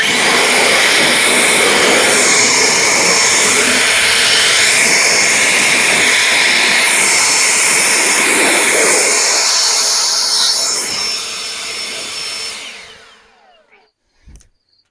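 Compressed air blasts loose debris off a Frontier OS27 sawmill in a loud, continuous hiss lasting about twelve seconds, then cuts off and leaves a couple of faint knocks.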